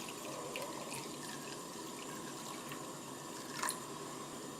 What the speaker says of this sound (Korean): 살짝 볶은 다음에 물을 붓겠습니다.